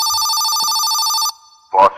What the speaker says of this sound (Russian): Бешеный телефон.